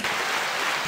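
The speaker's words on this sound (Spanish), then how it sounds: "Y digo que un aplauso para Mary." A brief burst of applause for Mary, a wash of clapping lasting under a second at moderate level.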